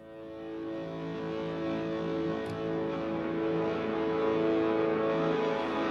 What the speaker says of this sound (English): If we would like to have a quick listen to their scoring guitars